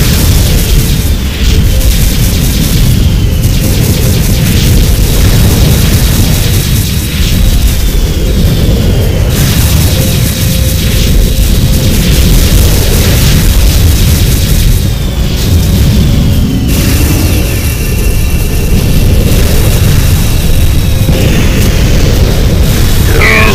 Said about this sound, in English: Iceni is taking heavy hits from the asteroids that are hitting it.